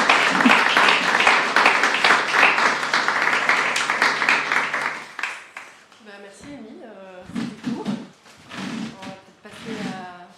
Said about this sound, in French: Donc applaudissez tous et je laisse la suite.